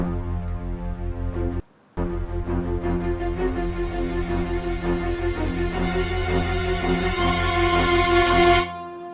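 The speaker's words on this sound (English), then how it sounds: "French horns crescendo you can find under orchestral brass." Logic Pro stock orchestral brass French horns pounding a fast, pulsing figure of repeated chords with a brief gap early on, growing fuller and louder toward a peak before stopping abruptly.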